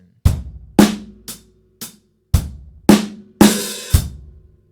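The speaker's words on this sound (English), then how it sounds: "just after the backbeat, we're going to play another snare drum hit with an open hi-hat" A drum kit plays one bar: a backbeat followed by another snare hit with an open hi-hat, heard as a string of sharp, close hits spaced about half a second apart, the final pair brighter and splashier with cymbal wash.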